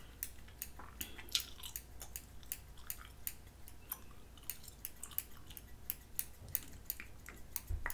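Soft, close, wet smacks and clicks of gum chewing carry on in a quick, irregular rhythm during a mock haircut, quiet and without talk.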